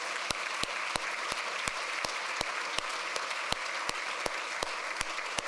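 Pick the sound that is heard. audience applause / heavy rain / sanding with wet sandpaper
audience applause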